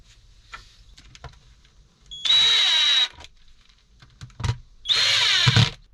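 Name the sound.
power drill drilling holes in solar isolator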